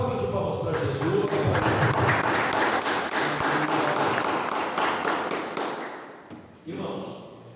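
Congregation applauding for Jesus during a church service, a dense sustained wash of clapping that holds steady, thins briefly near the end, then swells again.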